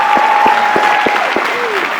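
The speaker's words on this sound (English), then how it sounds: "Give Marcus a round of applause if you believe he can do it." Studio audience applause on a personal finance show, a bright burst of clapping under a sustained tone, with a few sharp louder claps standing out at regular intervals.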